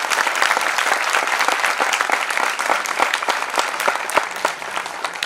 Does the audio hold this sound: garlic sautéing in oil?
no